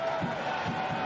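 Rugby crowd at the Celtic League final between Leinster and Ospreys, a steady distant roar of supporters backing Leinster with swelling murmurs and no distinct voices.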